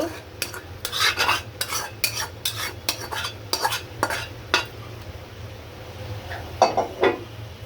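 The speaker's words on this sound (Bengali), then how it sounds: "এই চুলায় হচ্ছে আমার সেই বাঁধাকপি ভাজি। এখন হচ্ছে আমি বাঁধাকপির সাথে চিংড়ি মাছ দিয়ে দিব।" A spoon or spatula stirs fried cabbage with shrimp in a pan, giving repeated scraping clinks against the metal over a low steady sizzle, close and fairly loud, with no talking.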